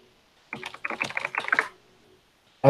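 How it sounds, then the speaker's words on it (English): Quick bursts of keystrokes on a computer keyboard, a fairly close flurry of clicks lasting about a second, then silence and a final sharp tap at the end. "bad typing day"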